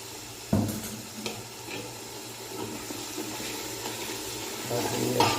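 Water is splashed into a frying masala with green chillies for finger aloo brinjal. A sudden splash gives way to a steady hiss and sizzle that swells again near the end.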